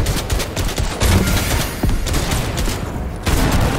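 A drum gun in Fortnite fires rapid, loud bursts of automatic shots in close succession, with brief pauses between the volleys.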